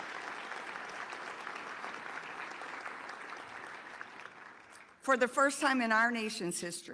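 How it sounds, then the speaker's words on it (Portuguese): An audience at a prayer breakfast applauds in a steady, moderately distant wash of clapping for about five seconds, which then stops as a person begins speaking. "Ela é aplaudida então ao dizer isso."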